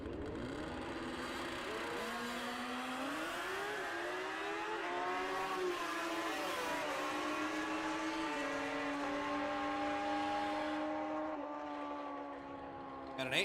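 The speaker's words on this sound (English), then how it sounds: "Good looking 1972 Kawasaki H2 750." A 1972 Kawasaki H2 750 motorcycle on a drag strip, its engine note rising in pitch through several gear changes, then fading off, heard from a distance and fairly faint, with an announcer talking over it.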